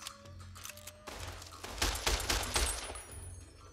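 Gunfire from a repeater rifle loaded with armor-piercing ammo in Fallout New Vegas: several sharp shots crack in a rapid cluster over faint game ambience.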